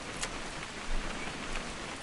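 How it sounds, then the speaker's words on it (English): Steady, soft rain falls in What Remains of Edith Finch, a dense even hiss with faint scattered drop taps, fairly quiet and without voices. "It's gonna rain the whole weekend, isn't it?"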